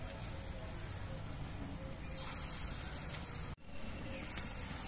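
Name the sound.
lentil fritters frying in mustard oil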